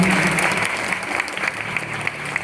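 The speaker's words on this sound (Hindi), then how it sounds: "एक बार जोरदार तालियां हो जाए हमारे हिंदुस्तान।" An audience at an Independence Day event claps loudly for a couple of seconds, a dense burst that eases slightly toward the end.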